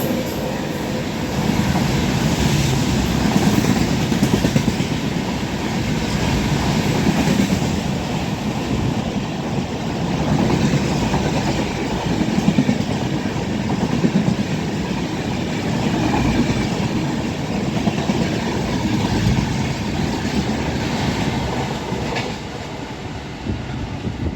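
The Pothigai Express train runs along the rails, a continuous loud rumbling roar with steady rattling and clatter that holds from start to finish.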